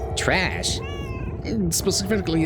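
A cat meows several times in rising and falling cries, close and fairly loud, alternating with speech from people talking nearby.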